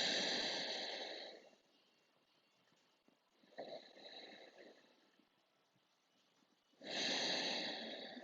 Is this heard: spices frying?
no